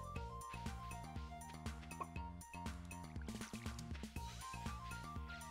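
In Stardew Valley, a dog's water bowl is filled, making a brief liquid pouring and splashing effect set under bright, constant game background music with plucked melodic notes.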